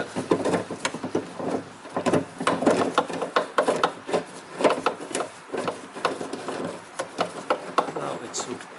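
Tool turning in the bolt area of a car door lock during repair, a series of irregular scraping and clicking bursts, close and fairly loud, with brief gaps between turns.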